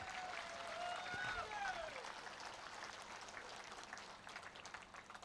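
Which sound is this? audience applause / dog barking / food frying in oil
audience applause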